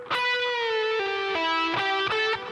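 An electric guitar with distortion plays a short minor pentatonic lick, opening on a sustained bent note that slides down, then several quick picked notes close to the listener, played alone.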